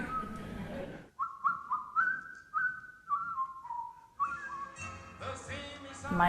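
A female champion whistler whistles a melodic tune alone, clear sustained notes moving between pitches after a brief pause, then fuller tones near the end.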